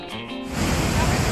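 Krang Suri waterfall in Meghalaya pours with a steady broadband rush that swells louder after the first half-second, a continuous close roar of falling water with no other sound over it.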